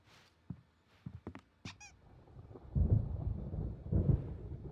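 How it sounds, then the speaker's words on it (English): Deep thunder rolls in Alan Wake Remastered, a heavy low rumble building and swelling for a couple of seconds, preceded by a few short, sharp honking calls. "There's a storm coming. Oh, what a storm."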